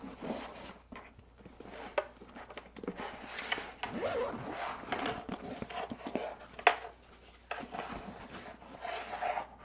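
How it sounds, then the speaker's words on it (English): The zipper on a Nomatic 30L travel bag is drawn closed in several uneven pulls, a close, raspy scraping with short pauses and faint fabric rustling and handling between strokes. "So we'll just kind of zip this back up real quick. And the zipper action here is pretty decent."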